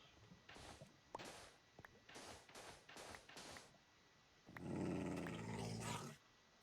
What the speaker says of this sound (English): Here's something growling up above.